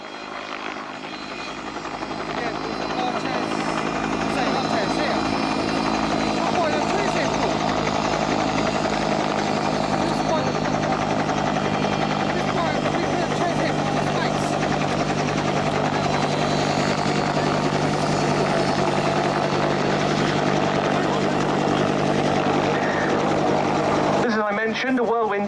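A Westland Whirlwind HAR-10 helicopter passes slowly at an air display during a winch demonstration, its loud steady turbine and rotor roar holding throughout, with speech over it.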